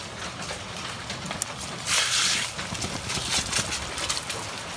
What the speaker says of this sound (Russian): Град какой.